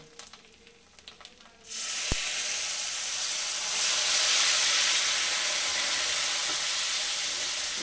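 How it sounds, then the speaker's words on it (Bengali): A spice paste of chilli powder, red chilli powder and ginger paste bursts into loud, steady sizzling in a pan partway through, after a quieter opening, as water goes in, with the hiss swelling and holding. Vegetarian potato and pointed gourd curry with coconut. "সমস্ত মশলা এখন আমি দিয়ে দিচ্ছি। একটু জল দিয়ে দিচ্ছি।"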